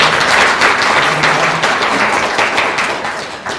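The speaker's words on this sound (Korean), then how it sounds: "다시 한번 우리 박홍모 의원님께 한참 박수 부탁드리겠습니다" Audience applause fills a forum launch ceremony for a food and basic agriculture policy forum, a dense, steady burst of clapping from a crowd lasting several seconds and tapering slightly at the end.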